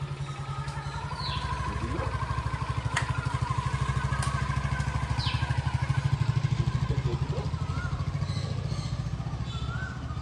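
A scooter engine runs close by with a steady, rapid putter that holds at a fairly even level throughout, while faint voices and birdsong sit in the background.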